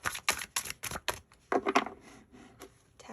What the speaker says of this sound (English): I'm going to shuffle out some more cards